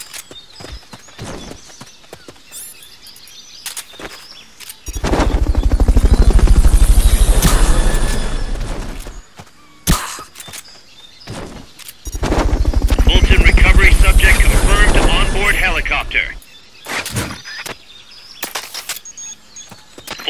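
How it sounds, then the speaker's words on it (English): Two loud bursts of helicopter rotor and engine noise from Metal Gear Solid Peace Walker, each lasting several seconds, separated by quieter stretches of scattered game sound effects. "Fulton recovery helicopter is complete."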